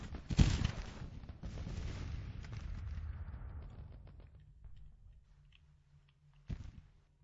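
Booming artillery and rattling gunfire from a Grand Tactician Civil War battle, with a sharp loud blast at the start, a rumbling volley that fades over several seconds, then another distant boom near the end.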